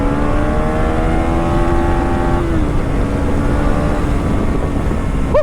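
A motorcycle engine, a Duke 390, running loud and close, with a smooth sustained tone whose pitch steps down about halfway through as it eases off, and no talk.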